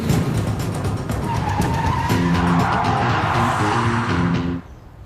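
A car skids with a tire squeal as a driver stomps the foot brake on a driving-test course, a loud, sustained scrubbing screech with engine noise that cuts off abruptly near the end.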